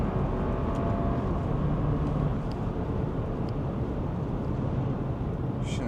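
A 2018 Porsche Macan 2.0 T with 252 hp pulls hard at full throttle from inside the cabin, its engine a steady low drone under constant road and wind roar, with no talking.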